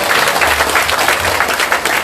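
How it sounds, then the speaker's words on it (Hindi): A large crowd applauds steadily and loudly throughout at a Hindu religious gathering in Fiji, dense clapping filling the scene without pause. "अपने लिए ताली बजाकर धन्यवाद दे दो"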